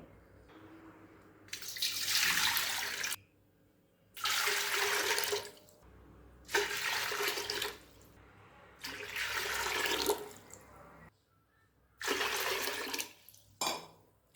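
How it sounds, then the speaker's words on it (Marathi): Water pours into a pot in several separate bursts of a few seconds each, with quiet gaps between them, a steady splashing rush close by. "पाच वाट्या हे पाणी घालायचं आहे"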